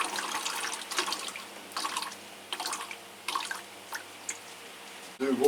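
Water drains through potted Phragmipedium orchids in quiet, intermittent bursts of trickling and dripping, fairly soft, with a brief louder splash near the end.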